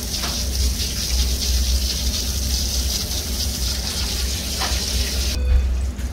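Water rushes and gushes steadily through a Pentair RO system filter valve in backwash mode, a loud continuous flow that cuts off abruptly near the end.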